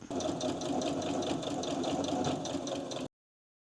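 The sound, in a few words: sewing machine stitching a rug piece onto fabric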